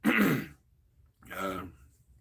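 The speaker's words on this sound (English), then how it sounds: "Coughing and stuff." A person with a lingering cold clears their throat with a rough, raspy burst, pauses, then coughs and clears again more softly; close and fairly loud, no speech.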